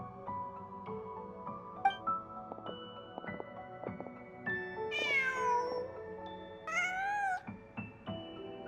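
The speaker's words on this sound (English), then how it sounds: "Just a cat." A cat in the video game Genshin Impact meows several times, with drawn-out rising calls near the middle and end, fairly quiet over a soft layered musical backdrop.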